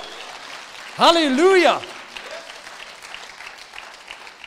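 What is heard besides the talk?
church congregation clapping for the Lord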